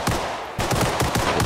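Rapid automatic gunfire in Arma Reforger during a beach assault: after a brief lull, fast evenly spaced shots crack in a loud, continuous burst, with no talking.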